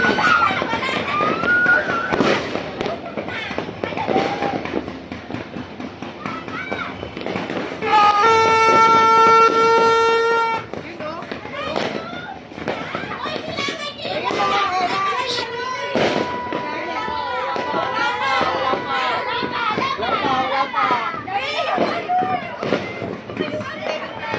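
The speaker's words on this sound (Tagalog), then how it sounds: "Yan na ang mga fireworks display dito sa ating" New Year's Eve fireworks crackle and boom at a distance, continuous and layered, while a crowd chatters and people talk close by.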